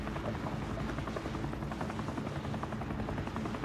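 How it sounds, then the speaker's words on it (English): Helicopter in the video game Call of Duty: Modern Warfare, a continuous rotor thrum with rapid pulsing chop, steady and close throughout the short stretch, with no voices. "Miguel, you get the helicopter, right?"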